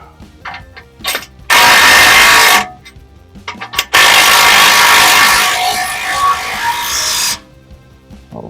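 Ratchet driving up a skid plate bolt on a Jeep TJ, two loud close bursts of rapid mechanical whirring and clicking separated by a short pause, with lighter clicks around them and no talking.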